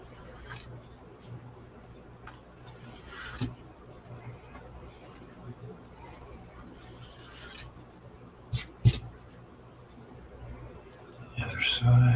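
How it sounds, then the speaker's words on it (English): Rasping strokes of a file cleaning burrs from the edges of a plastic model starship part, soft and close, repeating in a loose rhythm with a few sharper knocks and handling noises. "I'm just going to pull it just to get rid of the burrs."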